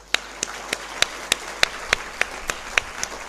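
An audience claps for Rotary at a school event. The sound comes as a series of about a dozen sharp, evenly spaced single claps, loud and close, in a steady rhythm rather than a dense round of applause.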